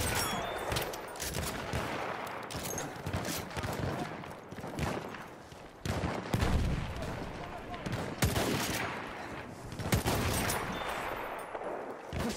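Machine gun fire in a war video game, sharp repeated bursts and scattered shots near and far, with shouting voices in the mix.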